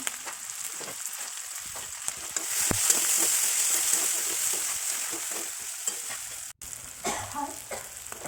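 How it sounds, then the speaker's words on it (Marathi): Tomato, peanuts, roasted gram, turmeric and salt sauté on a low gas flame for upma, giving a steady close sizzle with scraping stirs throughout and a brief gap near the end. "बारीक गॅसवरती छान परतून घेतलं"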